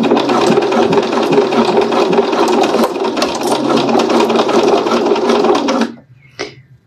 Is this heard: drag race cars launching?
no